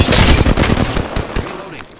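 Rapid automatic gunfire bursts in a video game shootout, loud and close, dense crackling volleys tapering off toward the end, with a voice faintly under the shots.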